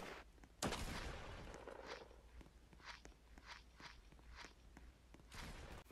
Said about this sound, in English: I heard those fucking footsteps